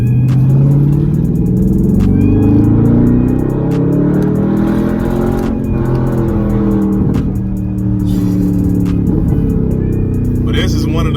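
Dodge Charger SRT with a straight pipe exhaust revs loudly and steadily, its deep rumbling exhaust note rising and falling with a few pops, while someone talks over it throughout.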